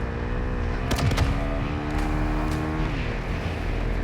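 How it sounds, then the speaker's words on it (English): A truck engine droning steadily nearby in the Warzone video game, its pitch shifting slightly as it approaches, layered over a continuous game rumble with a few sharp clicks and no talking. "I hear the truck. It's coming for him."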